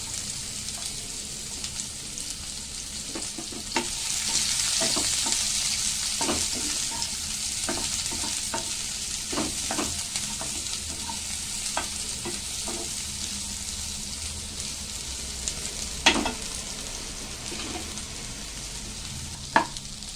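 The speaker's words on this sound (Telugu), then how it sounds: "కొంచెం ఆయిల్ వేసుకొని ఇందాక కట్ చేసి పెట్టుకున్న ఆనియన్ ఉంది కదా, అది వేసుకుందాం" Chopped onion frying in hot oil gives a continuous soft sizzle, with scattered clicks and scrapes of stirring throughout and a couple of sharper knocks near the end.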